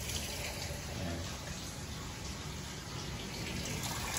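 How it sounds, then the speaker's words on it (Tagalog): Water from a connected hose filling the tub of a Fujidenso JWS-1100 11kg single-tub washing machine, a continuous even rushing hiss, fairly faint, with a brief word spoken over it. "Mag-supply ang tubig. Kinonect ko dito sa hose."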